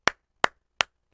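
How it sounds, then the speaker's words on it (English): Three sharp hand claps spaced evenly about a third of a second apart, crisp and close, with nothing else around them. "That was that was worth 3 claps"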